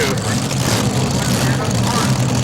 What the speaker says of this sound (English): here we go with our next tractor in the pull-off